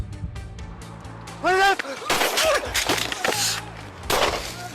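Several sharp gunshots ring out in a tense police encounter, loud close bangs amid chaotic noise and shouting voices.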